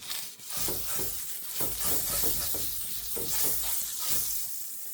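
Butter sizzling and frying in a hot pan before silver dollar pancakes are cooked, a steady loud crackling hiss with faint stirring scrapes throughout.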